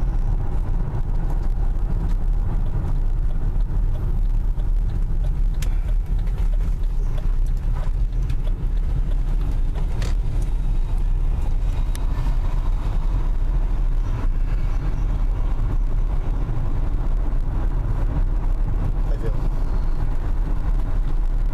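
A 2001 Buick LeSabre drives a lap with a steady, close engine and road rumble that holds unbroken throughout, with some faint cabin noise on top.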